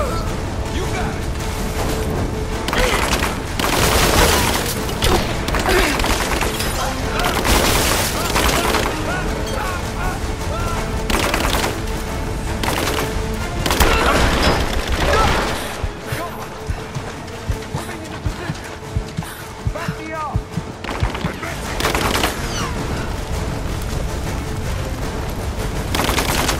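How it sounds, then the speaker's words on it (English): Gunfire in Rise of the Tomb Raider, with sustained volleys and bursts of shots mixed with mechanical clatter and booms, all continuing under voices for nearly half a minute. "Under fire!"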